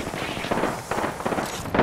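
Gunfire crackles in an Apex Legends match, with a few close, sharp bursts of shots rattling in quick succession over a dense, noisy game background.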